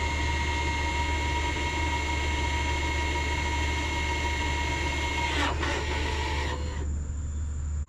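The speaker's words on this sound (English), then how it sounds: "the rear calipers are going to make a weird noise" On a Ford F-150, the electric parking brake's rear calipers let out a steady mechanical whine with high tonal hums. A short rattling burst comes near the end before the noise dies down.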